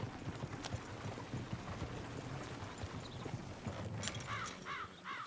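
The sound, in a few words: horse hooves clip-clopping in Red Dead Redemption 2, video game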